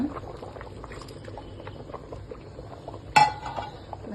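Anjal fish curry simmering in a pot, a steady low bubbling throughout with a brief louder clink of utensil against the pot near the end.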